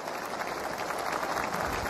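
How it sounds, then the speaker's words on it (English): Tennis spectators at the 2019 Shenzhen match between Sharapova and Wang clap softly and steadily from a distance, a faint, even patter with no voices. "Sharapova leading with the applause"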